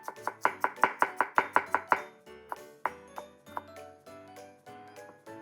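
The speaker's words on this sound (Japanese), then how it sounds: "ではまずニンニクから切っていきます。" A knife chops garlic on a board in a quick, evenly spaced run of about ten sharp, close knocks, followed by slower, more scattered cuts with a light ringing edge.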